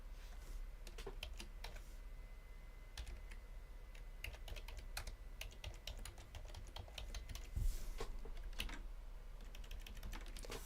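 Rapid, irregular clicks from typing on a computer keyboard while entering details into a scholarship application form, close and steady throughout with brief pauses and no speech.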